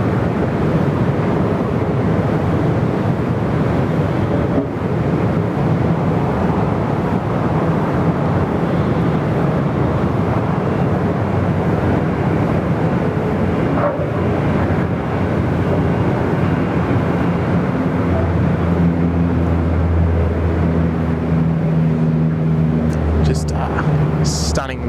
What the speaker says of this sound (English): This A330 going to roll through all the way to taxiway Bravo 1